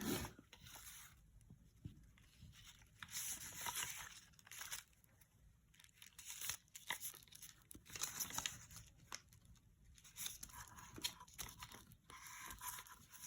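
Tape is torn and peeled again and again while tissue paper crinkles during a paint craft with gold paint, a series of close, sharp ripping bursts with brief pauses between them.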